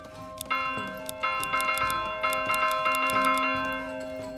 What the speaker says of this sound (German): man bekommt einen Erfolg, wenn man die Kirchenglocke läutet